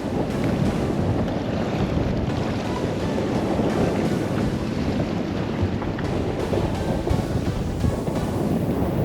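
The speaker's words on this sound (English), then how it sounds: "We got some waves. Waves aren't too bad, but definitely got a little bit of wind." Ocean waves wash in under strong, gusty wind at Shell Key Preserve, with heavy wind buffeting on the microphone and a continuous rumbling surge of surf.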